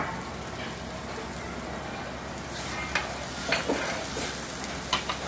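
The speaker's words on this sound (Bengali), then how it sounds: "দিয়ে এর সাথে আমি একটু ভেজে নিব।" Cauliflower with egg, salt and green and red chillies frying in a pan, a soft steady sizzle with occasional clicks of stirring, fairly quiet and with no talk.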